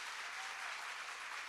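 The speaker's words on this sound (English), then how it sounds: "Let's clap again, welcoming" Continuous applause from an audience welcoming the Premier of KwaZulu-Natal at a provincial launch event, a steady dense wash of clapping with no voices over it.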